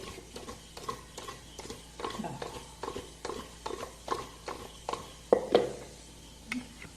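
Rhythmic scraping and tapping of a spoon stirring a thick mixture of tapioca and crushed chili in a pot, steady repeated strokes, close up with no talking.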